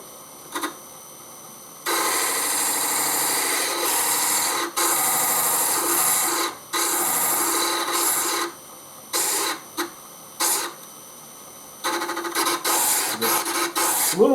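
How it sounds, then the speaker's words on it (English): A glass or stone preform is ground against a rotating stone wheel under light finger pressure, giving a loud, steady abrasive rasp in several long passes broken by short pauses, with no talk. "And then we're going to grind."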